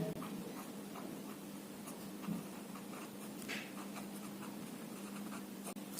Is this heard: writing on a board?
yes